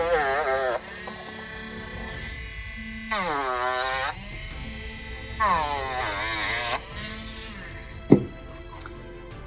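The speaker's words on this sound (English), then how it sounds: "you can do things like use a Dremel for a little bit extra battle damage" Dremel rotary tool roughing up leather for battle damage, a close high-pitched buzzing whine that rises and dips in pitch across several separate bursts, ending in a short sharp clack.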